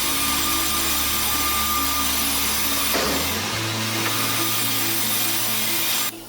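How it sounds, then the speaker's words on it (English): A large mill saw rips through timber for wooden boat building, a loud continuous grinding drone that drops in pitch midway as the blade bites deeper, then cuts off abruptly at the end. "This process is often performed by large saws designed to cut wood precisely and sharply."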